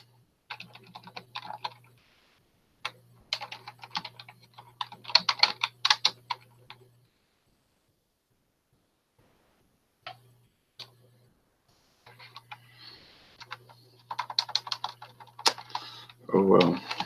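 Bursts of quick clicking keystrokes on a computer keyboard with pauses between, close up, and some brief talking near the end.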